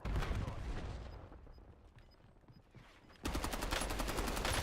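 Bursts of automatic gunfire in the video game Warzone crackle loudly at the start, fade to a quieter stretch, then erupt again in a dense, sustained volley.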